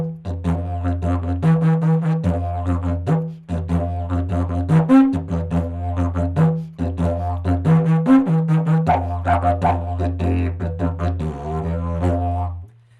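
A didgeridoo plays the chorus of the Why Not rhythm slowly, a continuous low drone broken into repeating pulsed phrases with brief pauses between bars, close and solo.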